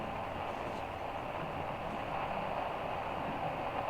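A train in the video game Metro Exodus rumbles along steadily, a dull, even, moderately quiet rolling drone throughout.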